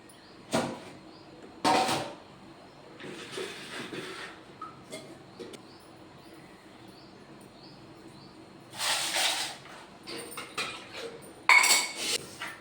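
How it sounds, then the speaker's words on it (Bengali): Plates and bowls being scrubbed and washed by hand, with scattered clinks and scraping clatters of dishes in bursts between quiet pauses. "থালাবাটিগুলো তো এখনও মাজা হয়নি তো ওগুলো এবার মেজে নেব চলো"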